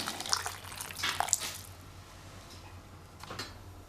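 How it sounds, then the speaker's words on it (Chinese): Hot water poured from a kettle into a clay pot of pork ribs with scallion and ginger, a short splashing gush that fades into quieter trickling and drips. "加上热水。"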